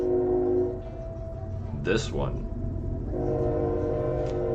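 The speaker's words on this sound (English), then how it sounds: "sorry about the train." A train rumbles past with a horn sounding in the background, a steady low roar beneath a man's ongoing speech.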